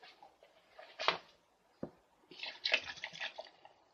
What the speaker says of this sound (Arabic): لو مقدار الموز معاكي كتير واللبن قليل زوديها بشوية مية زي ما انا هعمل دلوقتي